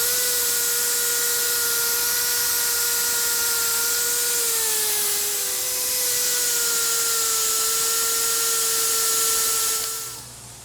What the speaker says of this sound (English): I'm going to have to polish this whole fender, but let's just attack this spot